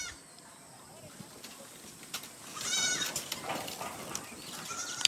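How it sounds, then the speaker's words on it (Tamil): Goats bleat at a family homestead at night as they are herded into a shed, a few short cries rising midway over background voices and scattered rustling. "நித்திக்கு பல்ல சாத்துப்பா, ஆடு வெளில போயிடும"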